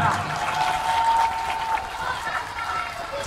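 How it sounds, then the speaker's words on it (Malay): A crowd claps steadily and softly for a few seconds at a school Maulid Nabi gathering in Aceh Barat. The applause sounds like an even, hissing patter with a faint tone running underneath. "Tepuk tangan."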